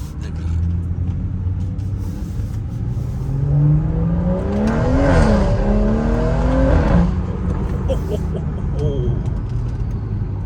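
A BMW F30 340i engine revs in traffic on the way to a car meet, its droning tone rising and falling through a swell mid-clip over steady road rumble, with passing-vehicle noise around it.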